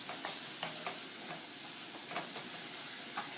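A rice mixture with turmeric simmers in a pot for arroz con gandules, giving a steady, close frying sizzle with soft hiss and a few brief stirring scrapes.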